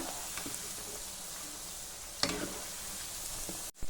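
Raw banana pakoda fritters frying in hot oil, a steady close sizzle with soft crackles and a brief sharp tap near the middle, no voices.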